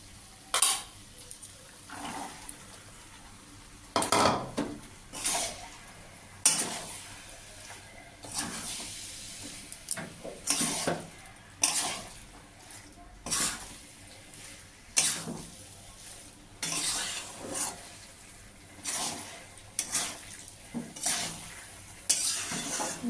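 Peas being stirred into masala in a pan for chicken ghugni, with a steady series of utensil scrapes and clanks against the pan over a quiet sizzle, with no talking.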